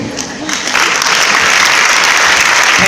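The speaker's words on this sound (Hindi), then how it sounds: "जोरदार तालियां।" Audience applause swells up after a brief spoken word, then continues as dense, loud clapping from a crowd.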